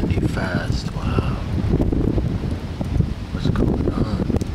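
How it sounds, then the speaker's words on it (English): Wind picks up before a thunderstorm, a loud rumbling buffet against the microphone with rustling bursts close by. A person talks over it in places. "It's starting to get windy fast."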